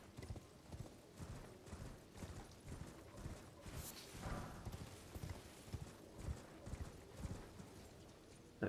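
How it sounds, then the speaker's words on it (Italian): A horse in the game Elden Ring trots with rhythmic clip-clop hoofbeats and gives a neigh midway, quiet and distant under low ambient game sound. "Qui c'è un cavallo, ci passiamo larghi"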